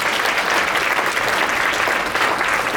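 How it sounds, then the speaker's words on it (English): Audience applause at a civic luncheon, a round for the panelists: steady, dense clapping from a full room, loud and continuous throughout with no talk over it. "Can we give all our panelists a round of applause one more time?"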